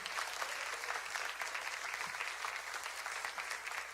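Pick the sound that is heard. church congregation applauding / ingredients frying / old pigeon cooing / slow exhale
church congregation applauding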